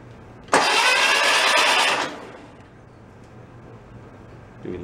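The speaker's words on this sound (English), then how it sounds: "So we're gonna go crank it with the test light in there and just see if it'll spin with the plugs out fast enough" Barn-find Volkswagen Beetle engine cranked over with its spark plugs removed, a loud, fast starter whir lasting about a second and a half before cutting off, followed by quiet background hum.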